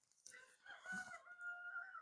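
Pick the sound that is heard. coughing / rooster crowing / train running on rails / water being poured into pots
rooster crowing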